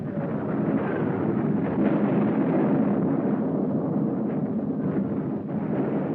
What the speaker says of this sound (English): A crushing mass artillery blow was launched on the 19th of November.